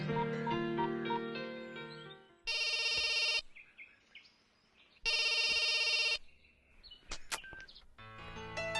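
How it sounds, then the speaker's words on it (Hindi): A telephone rings unanswered in repeated loud bursts with pauses between; faint music and chirps fill the gaps. "फोन नहीं उठा रहा यार।"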